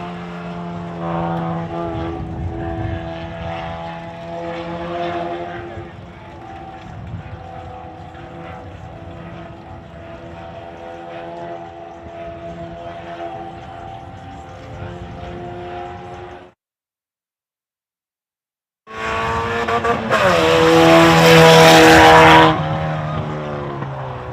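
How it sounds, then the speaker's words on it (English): A mini stock race car runs laps on a speedway, its engine droning steadily at close range before a brief dropout, then returning louder with a rising, high-pitched whine. "With this car, this is a full-blown mini stock"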